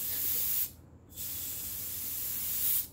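A vintage collector's airbrush sprays in two steady bursts of close, sharp hiss, with a short pause between them and no talking.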